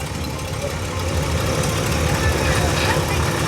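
A classic car's deep V8 engine idles steadily with a low rumbling burble, close and continuous, the sound holding even throughout.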